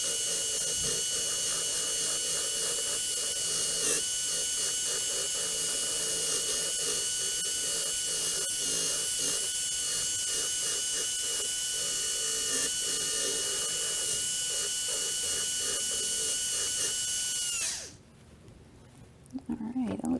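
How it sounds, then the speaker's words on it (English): A dental handpiece hums as a Jiffy brush loaded with polishing agent polishes a tooth restoration, a steady, close high-pitched whir that runs continuously for nearly eighteen seconds before stopping. "And then we're going to finish this up with our Jiffy brush."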